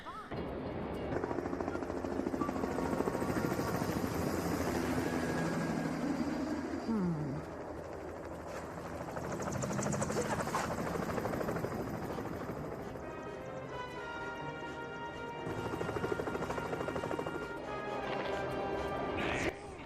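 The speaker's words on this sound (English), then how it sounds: "We're going to be seeing that police helicopter a lot in this level." A police helicopter in The Incredibles video game drones steadily overhead, its rotor noise continuous and fairly loud throughout, mixed with game music, occasional impact thuds and crashes, and no voices.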